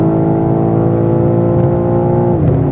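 A tuned BMW M3 Touring pulls hard on the Autobahn, its loud engine holding a steady, dense drone near the listener before a brief dip in pitch close to the end, as though shifting gear.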